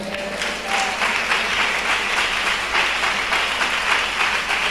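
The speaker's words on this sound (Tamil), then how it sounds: "கைத்தட்டுங்க." A church congregation at a Tamil Christian sermon breaks into sustained applause, a dense wash of many hands clapping at a steady level throughout.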